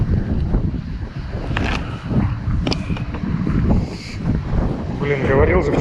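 Strong wind buffets the microphone while cycling past a forest shelterbelt, a dense, steady low roar of gusts that rises and falls throughout, with someone speaking over it.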